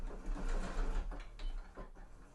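A domestic sewing machine runs in short bursts while stitching fabric and back stitches to secure the seam, a quiet whirring rattle with brief pauses between runs.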